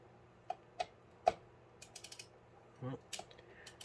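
Sharp clicks and ratcheting taps from a screwdriver tightening down the mount of an Arctic Liquid Freezer III 360 cooler, several quiet, close, irregular ticks and creaks with short pauses between them.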